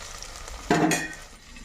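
Tomato pieces fry in a pan. A brief burst of sizzling and stirring rises sharply, then settles back to a faint background hiss.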